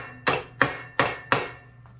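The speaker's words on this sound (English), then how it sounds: "So we're just tapping it on the pins." Clutch and fan housing of a 1976 Harley-Davidson golf cart engine tapped onto its locating pins with a hammer: four sharp, evenly spaced knocks, close and loud, with no talk.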